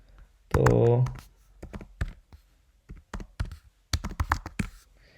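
A PIN code is typed on a computer keyboard in short bursts of clicking keystrokes, close to the microphone, after a brief spell of talk near the start.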